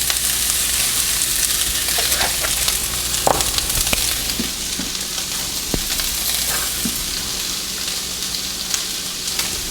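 Chicken burgers sauté in butter in a pan for a BBQ chicken burger recipe, a steady close hiss of sizzling fat broken by occasional clicks and stirring scrapes, with no one speaking.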